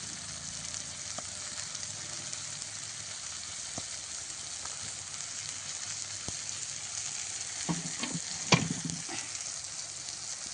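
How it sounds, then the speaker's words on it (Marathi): Drumstick pods fry with turmeric, chili powder and masala in a hot pan, a steady close sizzle throughout, with a few scraping stir strokes and clinks near the end. "चांगलं हलवून घेऊया."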